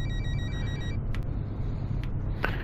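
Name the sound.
phone ringing in the video game Fernbus Simulator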